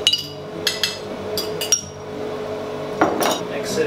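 Spaghetti sauce being stirred into meat in a pot, with a spoon clinking and knocking against the metal in irregular bursts over a low background hum, nearby and fairly loud.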